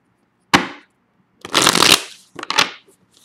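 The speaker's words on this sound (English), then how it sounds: "One more shuffle here." Tarot cards being shuffled by hand, three quick riffling bursts separated by short pauses, close and crisp with no talk.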